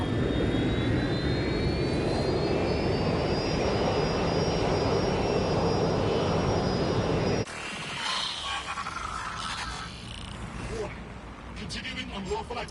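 Airplane in the video game Watch Dogs: Legion, a loud, steady jet engine roar with a rising whine that cuts off abruptly into quieter game sounds and faint talk.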